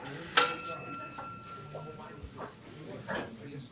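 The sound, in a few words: bell ringing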